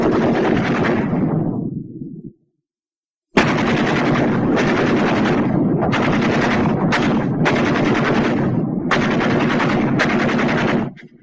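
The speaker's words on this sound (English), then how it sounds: "Ever hear a battle between 2 machine guns?" Two machine guns in battle, firing long loud bursts back and forth with a short silent gap between exchanges, sustained rapid rattling close by.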